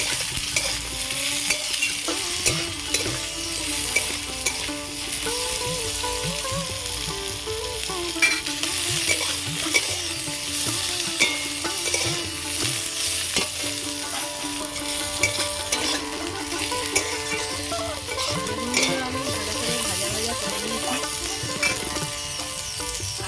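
Eggplant pieces frying in hot oil for a spicy puti fish curry give off a steady, close sizzle, with repeated stirring and scraping clatter throughout and no speech.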